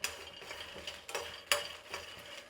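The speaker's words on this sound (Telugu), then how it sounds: "ఎండుమిరపకాయలు పల్లీలు కొంచెం ముక్కలా పెట్టుకున్నామంటే సరిపోతుంది. కాబట్టి లైట్గా వేయించుకుంటా ఉండ." Peanuts and dried red chillies lightly frying in a pan, with a soft continuous crackle and scraping stirs, a few sharper clinks and louder stirring strokes standing out at intervals, no voices.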